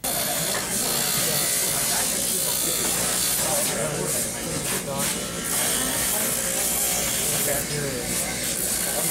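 A dental handpiece whirs steadily while cutting and smoothing a Full Breath oral appliance, a continuous high buzzing grind that persists throughout, with someone talking over it.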